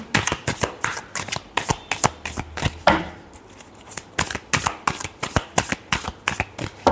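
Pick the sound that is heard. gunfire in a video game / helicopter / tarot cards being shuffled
tarot cards being shuffled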